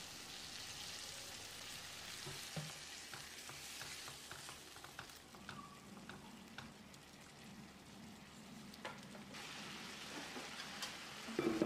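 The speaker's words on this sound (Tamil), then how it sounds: "அரை கப் அளவுக்கு தண்ணி சேர்த்து கலந்து விட்டு கொதிக்க விட்டுடலாம்." Cabbage potato masala with added water bubbling and sizzling in a pan, a quieter close crackle with scattered stirring scrapes and small clinks, steady throughout with no talking.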